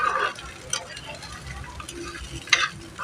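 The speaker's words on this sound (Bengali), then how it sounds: "সব এবার ভালো করে একটু মশলাগুলো ভাজা ভাজা করে নেব।" Spices with broken cashews frying and being stirred in a pan for paneer butter masala, a close sizzle with scraping stirs and a couple of sharp utensil knocks.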